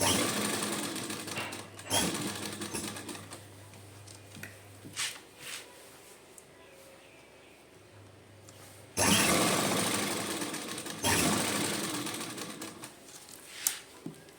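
A sewing machine stitches beaded lace onto fabric in bursts: a steady mechanical whirring run, a pause with softer handling noise, then louder renewed stitching, close and continuous without speech.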